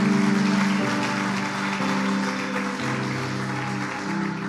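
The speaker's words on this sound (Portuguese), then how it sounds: "Aplauda o Senhor." A church congregation breaks into steady, dense applause that fills the space throughout, with sustained keyboard or organ tones held underneath.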